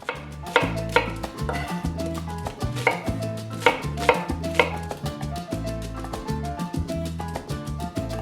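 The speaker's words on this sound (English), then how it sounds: "Rough chop 1 onion" Onion being rough-chopped with a knife for a stock: a steady series of crisp blade strikes on a board, close and fairly loud, over a sustained tonal background that sounds like music.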